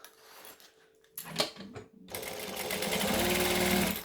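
After a few soft handling noises, a sewing machine runs steadily, stitching the gusset of a fabric Wonder Bag with a fast, continuous mechanical whirr that grows slightly louder toward the end.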